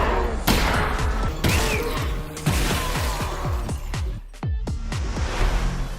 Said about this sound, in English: There's nothing better than exploring the world of Half-Life with a virtual reality viewer and shooting aliens with your bare hands.